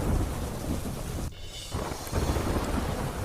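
Heavy rain pours in Kutch with a dense, loud roar and rumbles of thunder, briefly dipping for a moment before the downpour surges back.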